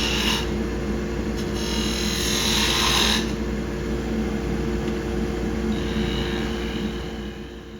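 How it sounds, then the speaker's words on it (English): A skew chisel makes smooth planing cuts on wood spinning on a lathe, finishing a small tool handle with a brass ferrule: a steady hiss and rasp over the lathe's hum, with brighter bursts early on. "doing some finishing cuts, some more planing cuts with the skew"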